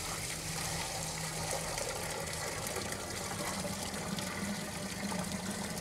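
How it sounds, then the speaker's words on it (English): Around two gallons of water poured into a pot holding a corned beef, a constant, quiet gushing fill that runs evenly throughout with no speech over it. "Now back to our corned beef, ready to add our water and get this thing boiling away."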